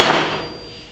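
A single sharp hammer strike on a hard nail used as a center punch to mark a drilling spot, close and loud, ringing briefly before fading.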